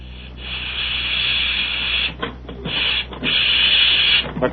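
Steam pressing a suit, a loud, close, continuous hiss of steam that cuts off briefly twice into short bursts before resuming, with no voices.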